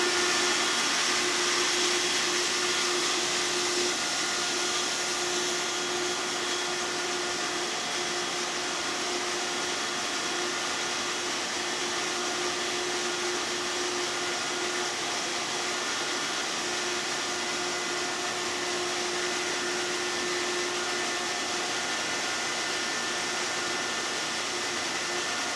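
A reverse osmosis machine running to concentrate maple sap, giving a steady, loud whooshing hum with a sustained tonal drone that continues unchanged for the whole stretch.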